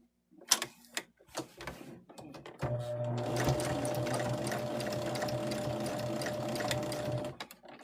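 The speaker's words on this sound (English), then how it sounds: "I'm going to take it back to my machine. And we are going to stitch all the way around just to stitch that down." Sewing machine top-stitching around the edge of a Valentine's mug rug, a few handling clicks and then a steady, close whirring hum of stitching for about five seconds before it stops.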